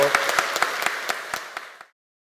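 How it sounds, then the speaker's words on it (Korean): Congregation applause at a church Eucharist service, a short run of distinct, regularly spaced claps over a softer patter that stops abruptly, leaving silence. "함께 큰 박수 쳐주시고요"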